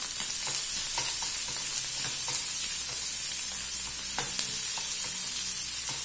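Onions frying with freshly pounded ginger and garlic for a spicy cauliflower potato sabzi, a loud, continuous close sizzle with light stirring scrapes throughout.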